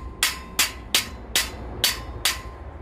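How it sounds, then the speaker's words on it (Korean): A hammer taps the sharp edges of a greenhouse film pad channel: six crisp metallic strikes at a steady, unhurried pace, close and clear, with no talking. "망치 갖다가 살살 때려주시면"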